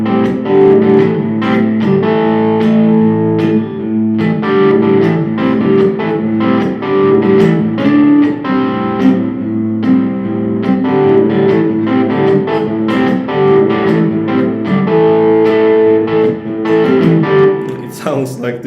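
Electric guitar playing a song with straight strumming instead of the original signature rhythm, a steady, continuous run of lightly driven chords at even loudness throughout.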